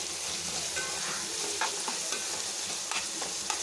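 Onions fry in a pan for chicken masala curry, a steady close sizzle with light stirring clicks and scrapes, no voices.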